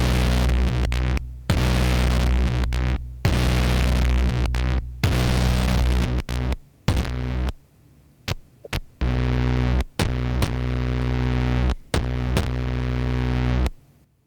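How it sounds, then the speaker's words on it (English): A soloed distortion channel from a DOOM-style metal sample pack plays heavy, buzzing, hum-laden chugs in loud chopped bursts with abrupt silent gaps between them. "I'm actually just going to solo the distortion channel for this."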